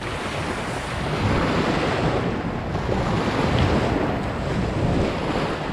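Churning water surges and splashes continuously around a moving 1982 Glasstream boat with a Chrysler outboard, with heavy wind rumble across the microphone and no voices.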